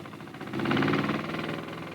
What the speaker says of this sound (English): After all openings are sealed, the engine is started.